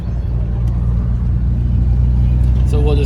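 A 2001 BMW M Roadster with the S54 engine rolling slowly at a Wichita festival, its low steady engine rumble close and continuous, a brief rise in tone near the end.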